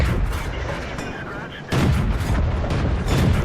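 A tank cannon fires in the World of Tanks game with a heavy boom partway through, set against continuous loud battle noise.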